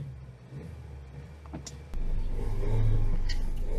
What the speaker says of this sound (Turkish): Bir gaz vereyim de.